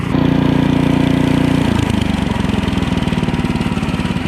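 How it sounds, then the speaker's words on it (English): A snowblower's small gasoline engine runs steadily to warm up, a loud, close, even mechanical drone that shifts to a slightly rougher, faster pulse partway through and then holds constant with no talk over it. "Now I'll typically let the snowblower run for about a minute or so that way it can warm up."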